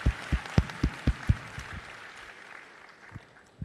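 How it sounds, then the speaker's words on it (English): An event audience gives a round of applause for guests, a few loud, close claps at first that quickly fade to scattered faint clapping. "So can we have a huge round of applause for Honorable Mr. Ashwini ji and Rick."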